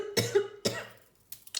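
Two harsh coughs from a woman, close and fairly loud, spaced about half a second apart, followed by a short pause and faint breathy sounds.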